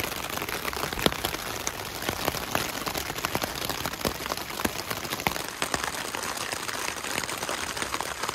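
Steady rain falls through the night on a backpacking camp on the Pacific Crest Trail in the California Sierra, a dense continuous patter with scattered sharper drop hits, no voices.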